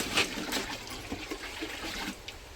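Cow urine splashes and trickles unevenly into a five-litre container, in a few short gurgling bursts, quiet and close.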